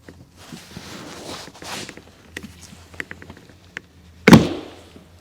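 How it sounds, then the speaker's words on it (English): Quiet clicks and taps of handling a Porsche Cayman door panel, then a sharp loud thunk as the door handle pops free, with a brief rattle afterward. "So now we're going to pull the door handle off."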